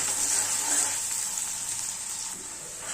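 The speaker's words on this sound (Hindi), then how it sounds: "प्याज को हम गुलाबी होने तक भुनेंगे।" Two medium onions, finely chopped, fry in a pan for Punjabi sarson ka saag, giving a steady, even sizzle that goes on with no talking.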